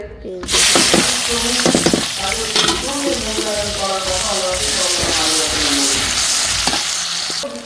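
Potatoes frying in hot oil, a loud continuous sizzle close by with scraping stirs and clinks running throughout.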